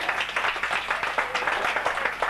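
An audience applauds at a 1995 parrot and sea lion show at Flamingoland, with a steady round of clapping from many hands, moderately close, lasting throughout.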